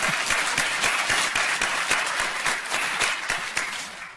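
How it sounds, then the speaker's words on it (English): Audience applause for surgeons at an obesity conference opening ceremony: steady, dense clapping from a sizable crowd, loud and sustained throughout with no speech over it. "So, this is give the surgeons a hand."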